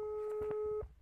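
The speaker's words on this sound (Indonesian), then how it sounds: "Makanya saya coba untuk telepon langsung, kita telepon ya guys." Steady phone ringback tone heard while placing a call, a sustained electronic tone for most of the second before cutting off, with faint background noise.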